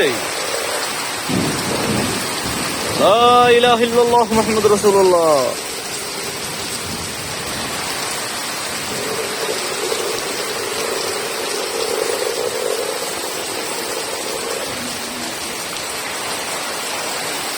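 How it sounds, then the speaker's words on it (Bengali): Kalbaishakhi thunderstorm in a village: heavy rain roars steadily throughout, with thunder rumbling, while a voice briefly recites a prayer near the start. "কাল বৈশাখী ঝড় নেমে এসেছে।"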